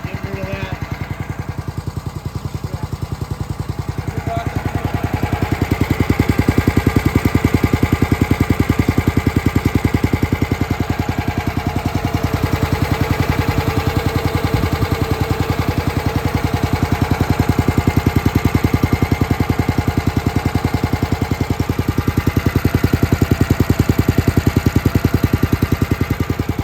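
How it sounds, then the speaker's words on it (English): A Brave Pro log splitter engine runs steadily for nearly half a minute, a loud, close, droning idle with a fast rhythmic chug that swells and eases slightly, and a voice is heard faintly beneath it. "So we just got done running the motor."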